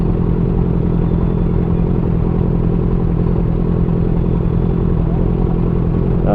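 A big bike motorcycle engine runs steadily and loudly throughout, a continuous close rumble with some clattering texture and no break or speech.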